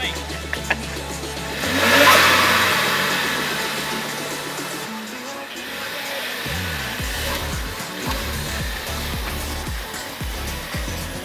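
Tuned car engine at a Sydney cars-and-coffee meet, revving with anti-lag: loud rising rev near the start, then repeated sharp low pops and bursts over a steady engine rumble, with crowd talk faintly behind.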